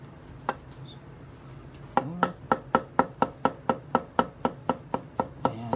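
A Makoto Kurosaki SG2 gyuto knife chopping on a cutting board, starting with a few scattered cuts, then a fast, even run of about sixteen crisp, close knocks.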